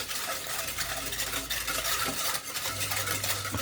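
Egg yolk and grated gruyère are stirred into a béchamel to make a Mornay sauce, giving a steady, close scraping and swishing of a utensil in the pan that runs without pause.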